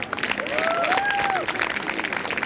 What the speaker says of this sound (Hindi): और अब सबसे बड़ी तालियां हमारे उन कर्मचारियों को जो आपके कॉलेज से पहुंचने से पहले इस प्रांगण को साफ करते हैं।